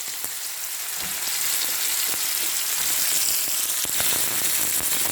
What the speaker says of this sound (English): green beans has been added, and I will saute that maybe for 1 minute